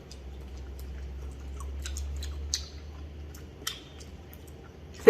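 A slice of vegan cheese, mild cheddar style, is chewed close to the mic, giving soft, faint squishy mouth sounds over a low hum, with a couple of sharper clicks.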